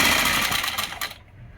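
A sewing machine running briefly as lace is stitched onto a Pakistani salwar, a close, loud whirring buzz of stitches that stops abruptly after about a second, leaving quiet.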